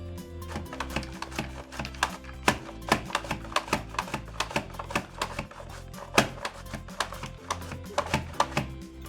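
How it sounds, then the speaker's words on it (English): Carrots are julienned on a Pampered Chef Rapid Prep Mandoline set to thickness four, giving a fast, steady run of sharp clicking chops and clacks that repeat close by for several seconds. "now let's do some carrots. I'm gonna set it to julienne on the number 4 thickness."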